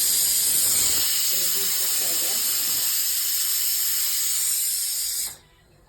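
A pressure cooker whistles while sambar cooks, a loud steady steam hiss with a high tonal whine that holds for about five seconds and then cuts off abruptly.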